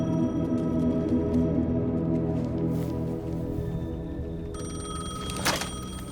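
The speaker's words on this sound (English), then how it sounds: "The payphone was ringing." A payphone rings in the video game Alan Wake 2, a loud electronic bell trilling steadily over a low droning ambience before a sharper burst near the end.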